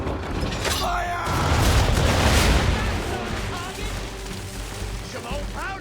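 Ship cannons firing in the Assassin's Creed III video game, a heavy booming blast with rumbling, crackling aftermath close by, while voices shout over the battle.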